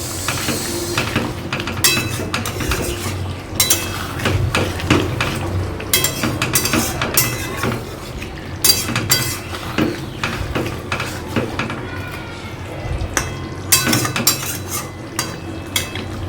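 Papaya and potatoes sautéing in a pan: a spatula or spoon scrapes, stirs and clinks against the metal in irregular bursts over a low, constant frying sizzle, close and fairly loud, with no talking.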